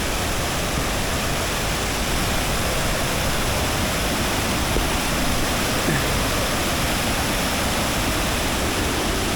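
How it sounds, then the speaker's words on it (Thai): A fast, strong-flowing stream near a waterfall in Mae Hong Son roars loudly and without a break, a dense rushing wash of water close by with no voices over it. "โอ้โหมาถึงจุดที่เป็นลำธารแล้วนะครับ"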